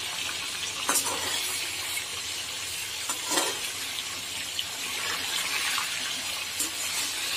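Chicken frying with capsicum in hot Dalda oil over a high flame, a steady crackling sizzle with occasional stirring scrapes and pops, fairly close and with no voices.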